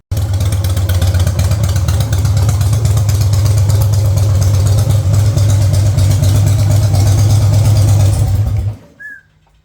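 An FXRT clone motorcycle engine runs loud and steady during a ride, a continuous low rumble with a few throttle swells, then it cuts off abruptly near the end leaving brief quiet.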